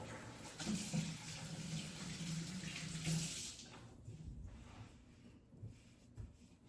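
A kitchen tap runs for hand washing during cooking, a steady soft rush of water that stops partway through, leaving quiet room sound.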